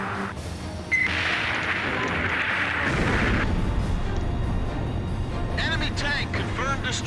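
Enemy tank blowing up in the Ace Combat 5 combat flight game: a heavy boom lands about a second in and rumbles out, layered over jet and gunfire noise, with radio voices talking over it.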